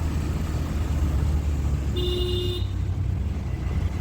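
Engine drone of an auto-rickshaw and a motorbike racing alongside in morning office-hour traffic, continuous and close, with one short horn toot partway through.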